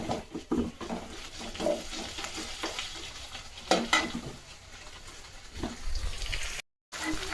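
Browned onions with ginger garlic paste frying in a pan for chicken roast, soft sizzle and repeated stirring scrapes, close, with a brief dropout near the end.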